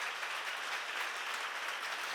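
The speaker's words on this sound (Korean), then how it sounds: "그렇게 하기를 원하는 사람만 뜨겁게 박수 한번 쳐봐" Warm, sustained clapping from a church seminar congregation, a continuous even wash of hands with no break or talking.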